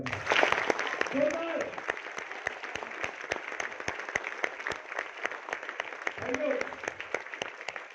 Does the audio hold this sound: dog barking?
no